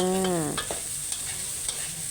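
Minced beef stir-frying dry in a wok, a steady close sizzle broken by a few sharp scrapes of a spatula against the pan.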